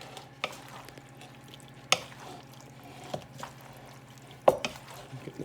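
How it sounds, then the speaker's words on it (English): A wooden spoon stirs baked penne with marinara sauce, melting cheese, roasted vegetables and Italian sausage, giving soft scrapes, wet squelches and a few sharper clacks against the dish at irregular intervals. "with our freshly washed wooden spoon, I'm going to start mixing this all together"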